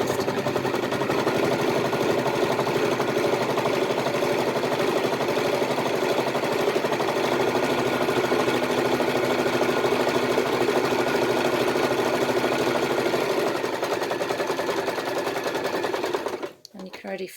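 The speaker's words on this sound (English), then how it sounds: "so I've just finished sewing those" A sewing machine runs continuously, stitching a strap for a yoga mat bag with a fast, even mechanical chatter at close range, then slows and stops near the end.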